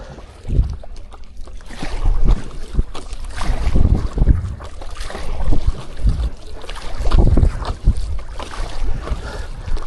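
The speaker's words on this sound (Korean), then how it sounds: "바람 세다" Strong, gusty wind buffets the microphone while paddleboarding on Soyang Lake near Cheongpyeongsa, rising and falling in loud rumbling surges with water lapping beneath, and no voices are heard.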